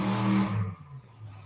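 Alcohol funny car or alcohol dragster at a drag strip, heard during a burnout test: a loud, close engine roar that fades and drops away after about a second, with a lower rumble lingering.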